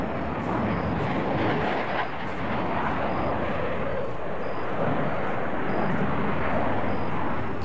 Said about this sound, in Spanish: que de tráfico aéreo tenemos